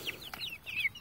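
Brahma chickens cluck in a few quick, close chirpy bursts within a second, with no talking.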